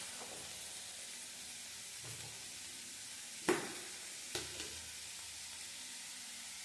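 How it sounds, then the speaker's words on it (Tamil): Snake gourd sautés in hot oil in a pan with a soft, steady sizzle, broken by a couple of sharp clinks of stirring, quiet and close with no talking. "எண்ணெயிலேயே ஒரு வதக்கி விட்டுறலாம்."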